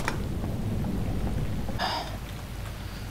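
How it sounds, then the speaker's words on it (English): Heavy rain pours steadily outdoors, a dense continuous hiss with a low rumble of thunder underneath throughout. "It's raining a lot though."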